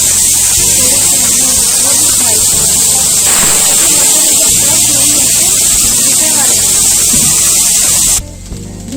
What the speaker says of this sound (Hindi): तो अभी हम मटर फ्राई करेंगे।